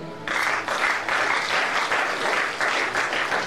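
A church congregation applauds during a French-language Bible teaching session on Genesis, steady sustained clapping from many hands that starts abruptly and carries on without a break.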